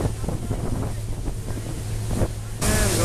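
Steady low engine rumble of the Staten Island Ferry moving through water, with rushing wind and splashing, growing louder and brighter near the end.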